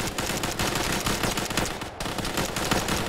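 Heavy gunfire in the ArmA video game, aimed at helicopter door gunners, comes as dense rapid bursts of shots that crackle loudly and continuously, with a short gap near the middle.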